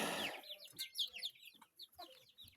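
Young chicks peep rapidly in high bursts while hens give low clucks close by, a short busy stretch of poultry calls.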